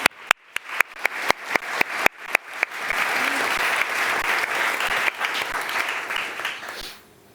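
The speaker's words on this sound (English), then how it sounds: "maybe we can have a round of applause for them" An audience applauds after a policy panel discussion on industry and net-zero, opening with several sharp separate claps that swell into sustained, fairly loud applause before stopping abruptly.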